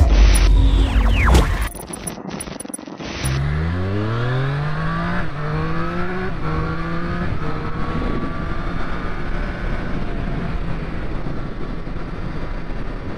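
A 2024 Triumph Street Triple 765 RS motorcycle being ridden, its engine revving up through rising gear pulls after a brief drop in sound, then holding a steady loud drone with wind noise throughout.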